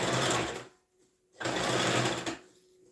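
A sewing machine stitches a boy's shirt sleeve along a curve in two close bursts of rapid whirring, with a brief pause between them.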